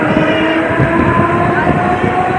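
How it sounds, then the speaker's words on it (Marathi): A Navi Mumbai local train pulls out of Dronagiri station with a continuous loud rumble and rolling clatter of the carriages, heard from on board. "द्रोणागिरीवर आपण निघाली ट्रेन आता आपली."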